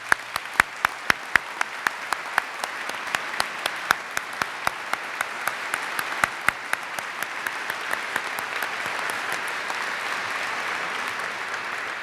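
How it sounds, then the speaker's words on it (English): A small audience applauds at a state-of-education address, with sharp individual claps standing out at first before the clapping blends into a steadier, softer patter that carries on for about twelve seconds. "Please join me in giving all of our friends of education a nice round of applause."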